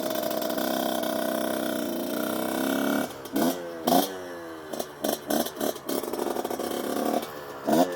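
Kayo KT 250 two-stroke enduro dirt bike pulling away in first gear, a steady engine drone giving way to several sharp, rising revs in short bursts, close and loud.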